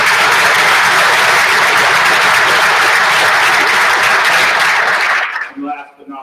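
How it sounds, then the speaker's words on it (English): Steady, loud audience applause at a Montgomery County, Ohio state-of-the-county address runs unbroken for about five seconds, then cuts off into quiet with a short trailing sound. "applause for Marcia Bonhart."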